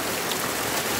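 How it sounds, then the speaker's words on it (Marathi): Heavy rain pours steadily over a flooded market street, a dense, even hiss that fills the whole moment with no voices. "काय रे पाऊस हा?"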